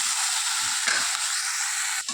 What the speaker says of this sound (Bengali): এক পিট ভাজা হয়ে গেছে উল্টে দেবো